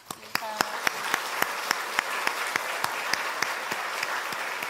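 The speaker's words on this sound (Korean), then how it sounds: "큰 박수로 화답해 주시기 바랍니다" A church congregation applauds new members at a newcomer completion ceremony: a full wash of clapping with a steady rhythmic beat running through it, and a brief voice near the start.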